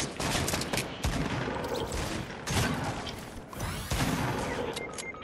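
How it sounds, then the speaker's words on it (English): Dense Fortnite battle gunfire with grenade blasts, heard as rapid overlapping shots and booming bursts in a continuous loud fusillade. "There's grenades coming in. Where's his shots coming from?"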